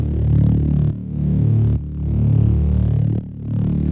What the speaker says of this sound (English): we have a Reese bass, which starts off the song